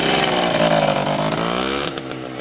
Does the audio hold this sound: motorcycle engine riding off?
yes